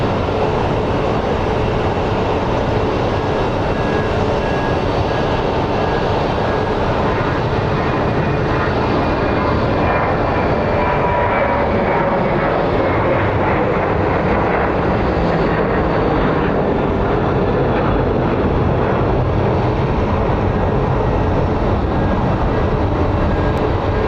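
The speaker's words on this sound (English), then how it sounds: "MD-11 crossing the runway." Jet airliner engines at Phoenix Sky Harbor airport, including an MD-11 crossing the runway, give a loud, steady roar and rumble that holds without a break, with no voices over it.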